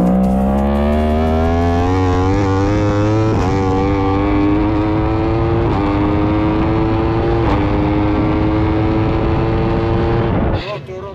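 A racing motorcycle at full throttle on a track's main straight in 2018: a loud, close, high-pitched engine wail climbing through several quick upshifts, then cutting off abruptly at the end.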